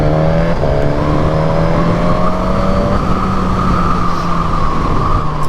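A 2025 Suzuki GSX-S1000 motorcycle on a test ride gives a steady, close engine and exhaust drone that shifts pitch as it pulls, mixed with constant wind rush.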